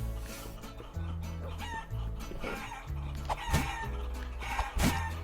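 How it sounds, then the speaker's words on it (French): Chickens cluck repeatedly over a looping synthetic music bed in the game Guacamelee, with sharp squawks near the end, a farmyard scene. "Il y a des poules partout"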